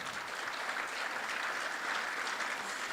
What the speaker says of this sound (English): You guys don't need to clap for everything I say.